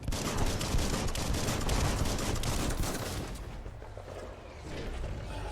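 Rapid bursts of gunfire from shooting enemies in Biomutant, dense and continuous for about three seconds, then thinning into scattered shots and clatter before picking up again.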